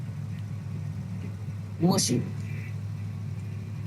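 A low, steady engine drone from a car on road tires straining through a muddy farmland pit in SnowRunner continues beneath a short spoken word.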